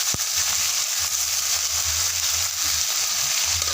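Squid adobo (adobong pusit) sizzles steadily in a hot pan, a continuous bright frying hiss with a brief sharp tap near the start and faint low clatter underneath.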